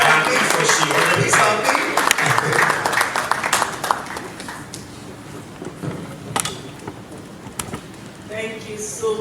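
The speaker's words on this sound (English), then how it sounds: "Let's keep clapping for her" Audience applause at an education conference in Africa, steady broadband clapping for someone speaker that thins out over several seconds, with scattered individual claps and some background voices.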